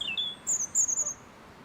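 A robin sings from a tree beside a lake, with short, high, clear chirps and warbled phrases close by over quiet outdoor ambience, and no talking.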